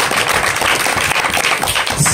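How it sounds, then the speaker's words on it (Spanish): A crowd applauds with dense, steady clapping for a couple of seconds, loud and close, with no voices over it. "Aplausos, por favor."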